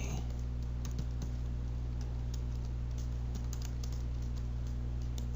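Steady typing on a laptop keyboard, with quick, light key clicks in uneven bursts over a constant low electrical hum, recorded close with no talking.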